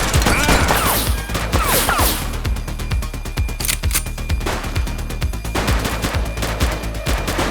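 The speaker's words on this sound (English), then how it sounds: "He's shooting! He's shooting!" Dense automatic and rapid gunfire in The Precinct police game, loud and continuous bursts of shots with crashes, close and sustained throughout.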